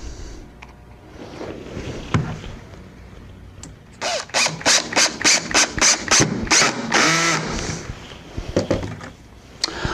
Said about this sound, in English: now I can slide the hinge in, and I'm just going to center this by eye on here, and I can install the screws